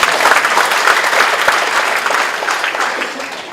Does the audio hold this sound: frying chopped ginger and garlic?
no